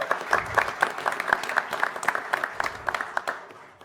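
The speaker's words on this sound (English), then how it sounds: "big round of applause for those guys," Applause from an audience at a press conference for a Tacoma baseball and Seattle soccer club announcement: steady, dense clapping from a roomful of people, fairly close and even, fading slightly at the end.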